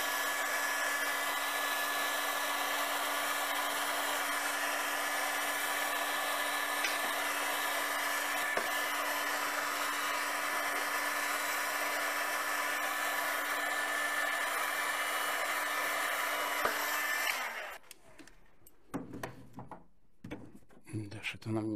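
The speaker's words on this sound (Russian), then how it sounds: "я хочу немножко поиграться при помощи фена" A hair dryer blows hot air to shape parachute fabric, a loud, steady whirring drone running continuously for about seventeen seconds before it switches off, leaving faint handling sounds.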